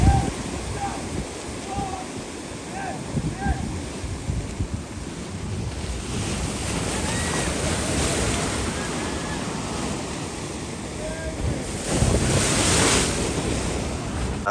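Ocean waves wash and break on a beach at Arugam Bay, a continuous roaring surf with wind buffeting the microphone and a louder surge near the end. A voice speaks faintly in the background.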